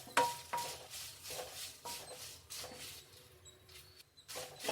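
Curry leaves frying and being stirred in a pan for Bisibele Bath powder, with soft sizzling and scattered clinks and scrapes of a utensil against the pan at moderate, uneven intervals.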